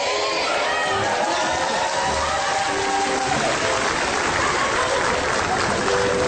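University students clapping and cheering in a studio crowd, a dense, steady wash of applause mixed with chatter that runs unbroken from start to finish.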